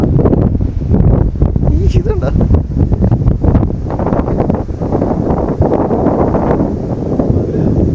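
Cyclone wind in Hong Kong roars and gusts loudly outside a hotel, a constant heavy rush with buffeting bursts, as someone speaks briefly over it.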